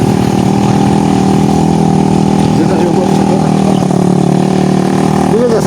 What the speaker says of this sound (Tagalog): Yan po yung mga motor.